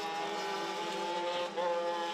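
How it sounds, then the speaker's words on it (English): A DD2 racing kart whose exhaust baffles have failed rings out with a loud, raspy, harmonic engine note that holds steady and then dips and surges again, with no talk over it. "Oh, noisy exhaust."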